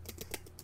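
Computer keyboard typing while a PowerPoint slide heading is entered, a few quiet keystrokes over a steady low hum.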